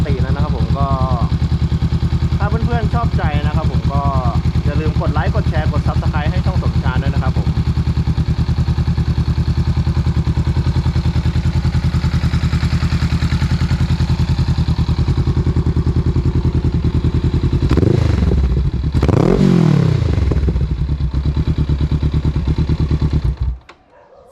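A Honda CB500F with a full titanium exhaust system idles steadily throughout, with a brief talking voice early on and a couple of sharp revs near the end before it cuts off.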